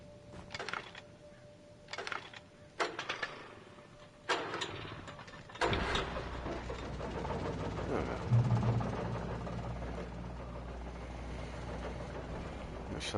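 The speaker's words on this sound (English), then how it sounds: "Right, let's start this engine up." In Alan Wake Remastered, a few sharp mechanical clicks and knocks lead into an engine catching and settling into a steady running drone, with a voice talking over it.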